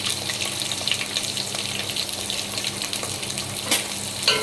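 Onions, green chillies and whole spices such as cumin, cardamom, cloves and cinnamon sizzle and fry steadily in a pan for kichadi, a continuous hiss with faint stirring clicks and no talk.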